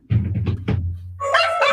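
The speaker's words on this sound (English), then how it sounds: "That was dogs barking." Dogs barking: a quick cluster of several loud, close barks, followed by a higher, drawn-out yelping cry.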